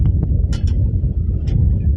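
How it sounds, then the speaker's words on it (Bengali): Strong wind blows across a hilltop site at Jarasandha's Akhara in Rajgir, buffeting the microphone with a loud, continuous low rumble and occasional gusty flaps. "আর এখানে কিন্তু খুব হাওয়া হচ্ছে"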